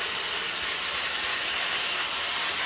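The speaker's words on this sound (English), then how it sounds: "you can hear that it's working." A Dyson V6 cordless hand vacuum runs continuously up close, giving a loud, even high-pitched motor whine and airy rush with no other sounds.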